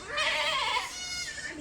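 A goat in her second kidding gives one drawn-out bleat close by, loud at first and then trailing off, with no talk over it.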